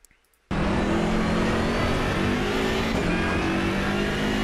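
A BMW M6 GT3 race car in Assetto Corsa Competizione at Zandvoort kicks in abruptly after a brief quiet and holds a loud, steady engine drone through the lap, with harmonic engine tones throughout.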